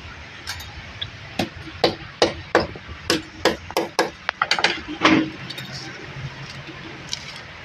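Sharp metallic hammer blows strike a Smash 115 motorcycle carburetor part repeatedly in an irregular series, close and loud, with a clinking ring on some hits.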